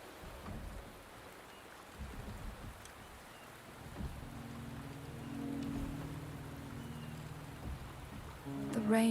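Rain in the video game Wuthering Waves falls as a steady, soft hiss, joined by low rumbling swells and faint tonal sounds that grow slightly louder toward the end.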